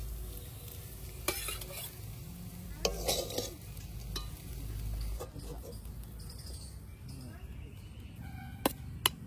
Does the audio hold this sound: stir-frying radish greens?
yes